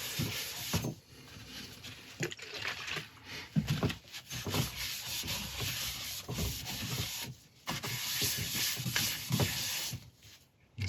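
A cloth wipes down a woodturning with a cat resin inlay, using isopropyl cleaning solution to lift grit and residue before polishing: close, steady rubbing and scrubbing strokes with brief pauses.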